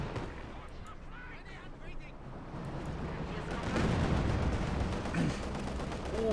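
Battle noise from the real-time strategy game Company of Heroes 2: rumbling gunfire and heavier booming shots that swell louder midway, with a commentator talking over the continuous combat.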